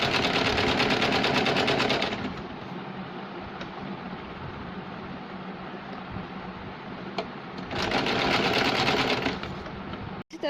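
A sewing machine runs picot stitching along a fabric edge from the wrong side, a steady close whir with rapid needle ticking, louder in bursts at the start and again near the end.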